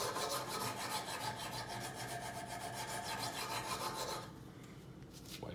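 Knife blade stroked on a Kazak UBR sharpening system, a rapid run of even rasping passes that stops near the end, leaving quieter scraping.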